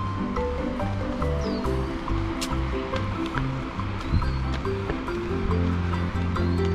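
Small waterfall-like flow of water along a pedestrian path in the Fanling area of Hong Kong, a steady continuous rushing wash heard at moderate distance with no talk over it.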